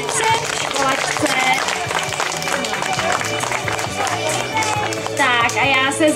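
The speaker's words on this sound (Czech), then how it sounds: "A zatleskáme Enince v školačce." An audience at a school ceremony in Čechovice claps for a new schoolgirl, steady and fairly loud, mixed with voices and some music-like tones near the end.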